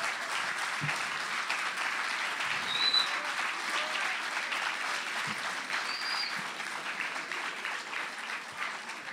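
Sustained audience applause at a fantasy literature event with school groups, honoring author Patricio Sturlese; dense, even clapping from a fairly large crowd that holds steady for the whole stretch without fading.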